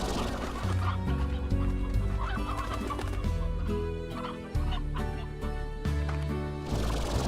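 Chickens cluck and gobble repeatedly in Slime Rancher, a busy cluster of bird calls over a looping, rhythmic music bed with no talking.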